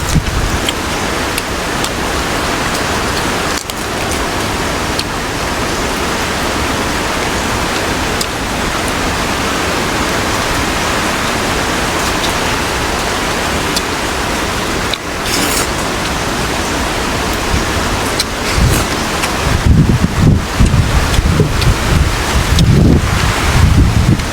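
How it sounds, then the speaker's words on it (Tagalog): Strong typhoon wind roars continuously, buffeting the microphone with dense rushing noise and heavier low gusts toward the end. "Ang problema dito ay hangin."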